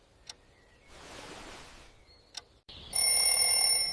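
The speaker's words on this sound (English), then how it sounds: "I turn off the alarm." An alarm clock goes off in the morning: a couple of sharp clicks and a soft hiss come first, then a loud, steady electronic ring with bright tones fills the last second.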